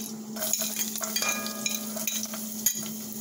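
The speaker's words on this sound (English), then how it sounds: "Love that sizzle." Four cloves of garlic sizzle in olive oil in a pan, a steady, moderately loud frying hiss with a constant tone, light clinks and stirring noises scattered through it.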